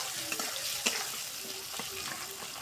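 Bay leaves, chopped onion and garlic fry in hot oil in a pan, a faint steady sizzle broken by light scraping stirs.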